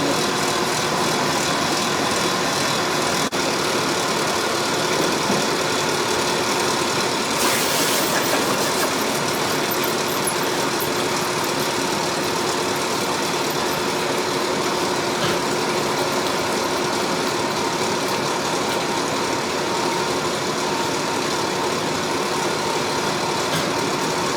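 A tractor engine idles steadily in the background of a blacksmith's forge for the whole stretch, a constant low rumble with a brief louder burst of noise partway through and no talk.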